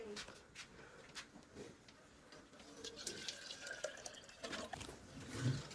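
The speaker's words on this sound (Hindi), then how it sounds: "इनके अंदर पानी डालते हैं फटाफट से।" Water is poured into small containers set out for birds, a faint, light trickle and dripping under steady background noise with no speech.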